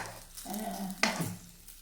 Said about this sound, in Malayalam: നമ്മൾ ഇങ്ങനെ കടുകൊക്കെ വറുത്തിട്ടിട്ട് പെട്ടെന്ന് ചട്ടി അങ്ങോട്ട് മൂടണം പോലും